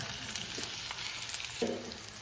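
Ingredients for a dessert sauté in a pan, giving a soft, faint, steady sizzle with a couple of brief stirring scrapes.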